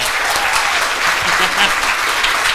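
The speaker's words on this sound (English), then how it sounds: "You hear the clap" Audience applause following a talk on post-capitalist photography, a dense steady wash of many hands clapping at close range, sustained and even throughout with no voices.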